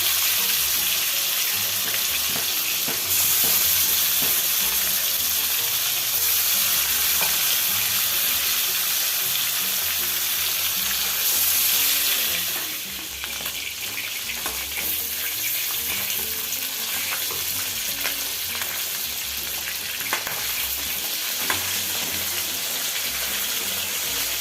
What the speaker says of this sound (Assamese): দিছোঁ ফ্ৰাই কৰিবলৈ চিকেনটো।